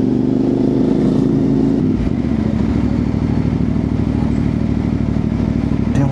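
A CFMoto 450MT motorcycle engine runs steadily nearby, a low rumbling idle with a brief dip before settling back into an even, continuous drone.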